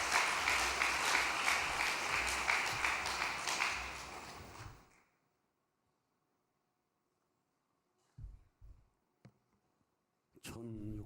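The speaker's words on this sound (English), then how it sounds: "round of applause." A loud round of applause from a gathering at a Cheonshim Won vigil devotion fills the first five seconds, then cuts to silence, followed by brief faint knocks and a short burst of speech near the end.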